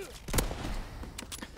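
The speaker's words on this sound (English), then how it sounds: "This sniper is very powerful. It's a one-shot pretty much anywhere" A WZ.35 sniper rifle in the Call of Duty WWII video game firing a single loud, sharp shot, followed by a couple of fainter impact cracks and game noise.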